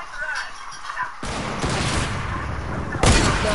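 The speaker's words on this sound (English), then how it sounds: "You're already getting sniped again." Sniper fire in a PS4 game arrives as two loud, close, sharp blasts a couple of seconds apart, each with a noisy tail, over a low game background with faint talking.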